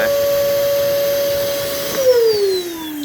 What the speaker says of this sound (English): Turn on your vacuum.